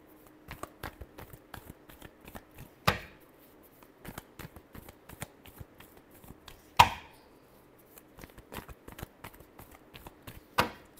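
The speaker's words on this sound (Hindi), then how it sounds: "last shuffle" A deck of tarot cards is shuffled close by: soft, rapid riffling and patting, with three sharper snaps where the deck is tapped or split, and no talk.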